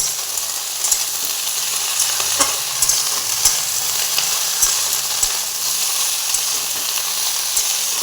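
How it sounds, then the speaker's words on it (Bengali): Mixed greens, including pumpkin and bottle-gourd leaves and spinach, are stirred in a hot pan, giving a loud, even sizzle punctuated by regular utensil taps and scrapes. "সব শাককে মিশিয়ে দিয়ে একটুখানি এরকম করে নেড়ে নেব"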